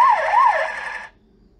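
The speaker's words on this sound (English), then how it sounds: "This is a police car." A police car siren wails in a loud, close, rising-and-falling pattern for about a second before cutting off into near silence.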